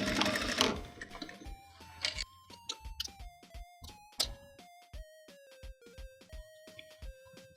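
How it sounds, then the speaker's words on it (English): Domestic sewing machine stitching back and forth over the thick seam of a jeans hem, giving a close, loud run of short mechanical bursts that shift pitch with each reversal, separated by brief pauses. "line your needle up with where the seam is, and then stitch back and forth a few times"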